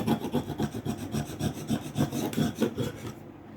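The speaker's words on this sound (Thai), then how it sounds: "เอาพวกฝุ่นหรือว่ากาวเก่าออกนะครับ ตามขอบขอบที่เราจะติดกาวใหม่ลงไป" Old glue and dust being scraped and rubbed off the frame edge of a Xiaomi Redmi 8A phone with a wooden stick, a quick run of close, rapid rasping strokes that stops abruptly near the end.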